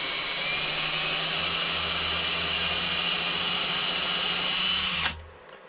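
A power drill spinning a 2.2 mm drill bit into a workpiece held in a fixture, a loud steady high-pitched whine with a constant tone that cuts off abruptly near the end, leaving faint room noise.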